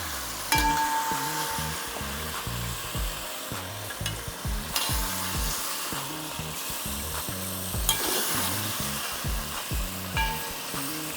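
Mutton frying in mustard oil with whole spices and salt, sizzling loudly and steadily, with repeated stirring scrapes in an uneven rhythm and a few sharp clinks from the pan.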